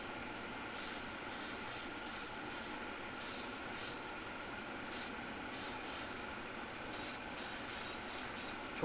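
Steady hiss of an airbrush spraying paint runs continuously, with brief breaks and restarts in the higher tones, close and fairly quiet, no voices.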